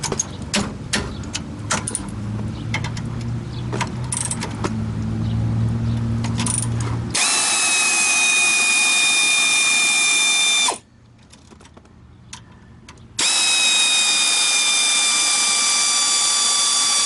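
A power tool loosens brake caliper bolts on a Ford twin I-beam truck, giving loud, sustained whirring bursts after a stretch of clanking shop noise, with a short pause between runs.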